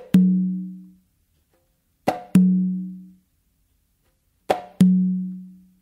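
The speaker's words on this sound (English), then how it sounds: "I'm gonna do like a closed palm slap with my left hand and then do an open on my tumba." Hand strikes on a tumba conga: a single deep open tone, then two pairs of a sharp closed-palm slap followed quickly by a ringing open tone, each separated by a short pause, close and clear with no talk.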